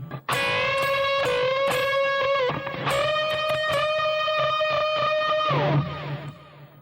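Closing phrase of a song's solo on overdriven electric guitar: picked notes and string bends rising to a sustained high tone, then a final bent note sliding down, loud and alone with no voices.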